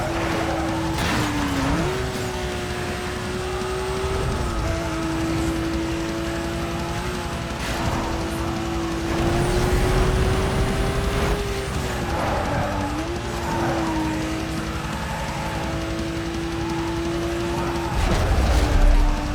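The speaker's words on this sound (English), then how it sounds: "I get back up to that Corvette, and I still hear the Lamborghini sound" A Lamborghini V12 engine sound plays on a Corvette in the racing game Need for Speed: Most Wanted, a loud sustained engine drone that rises and dips with gear changes over nearly twenty seconds, with bursts of tyre squeal.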